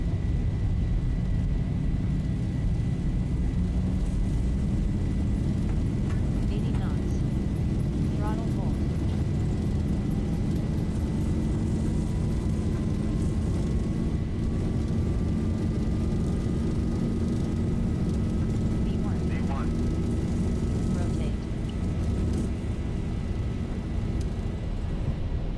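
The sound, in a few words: jet engines at takeoff thrust, Boeing 737 Zibo mod flight simulator video game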